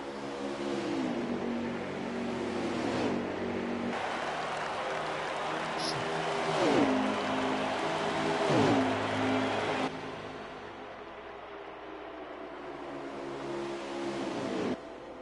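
Stock cars racing at Homestead, a dense roar of engines with several pass-by swells rising and falling, a steady loud wash that thins after ten seconds before another car sweeps past near the end.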